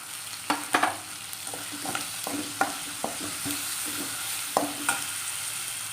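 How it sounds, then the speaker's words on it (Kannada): Turmeric and jaggery fry in a pan for bisi bele bath, an even close sizzle punctuated by a series of sharp spatula scrapes and knocks against the pan, with no talking. "ಇದಕ್ಕೂ ಒಂದು ಸ್ವಲ್ಪ ಅರಿಶಿನ ಹಾಕ್ಕೊಂಡು ಫ್ರೈ ಮಾಡ್ಕೊಳ್ಳೋಣ"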